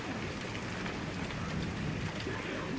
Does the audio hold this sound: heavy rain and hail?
yes